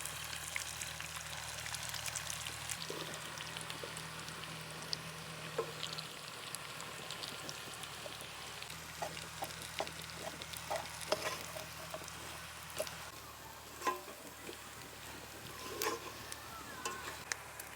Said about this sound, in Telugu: ఇప్పుడు వెల్లుల్లి కారం వేసుకుందాం.